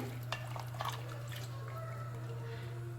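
A spoon stirs turmeric powder into a spice mix in a home kitchen, giving soft, continuous scraping and mixing sounds over a steady low hum.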